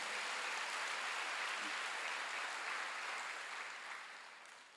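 A congregation applauding during a Wednesday church worship service, a steady, even wash of many hands clapping that fades slightly at the end.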